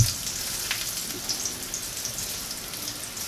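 Potatoes fry in a stainless steel pan, browning rather than crisping. A steady, close hiss of sizzling oil crackles on without a break.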